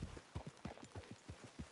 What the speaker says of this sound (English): Holy crap, this horse is massive.